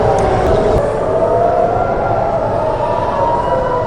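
Air raid sirens wail across Israel during an Iranian missile attack, a continuous rising and falling tone over a loud, noisy background that persists throughout.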